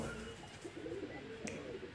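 A high-flyer pigeon gives low, soft coos that blend into a quiet background murmur, with one short sharper chirp midway through.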